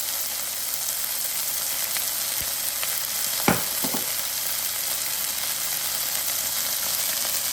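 Chicken pieces frying in oil in a pan for restaurant-style chilli chicken, a steady close sizzle with a few brief clacks of stirring or utensil contact midway and no talk.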